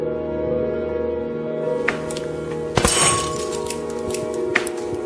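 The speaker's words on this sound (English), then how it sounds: "The explosion sent shards of glass flying." Glass bursts with a sharp crack, followed by scattered tinkling shards over a steady mechanical hum.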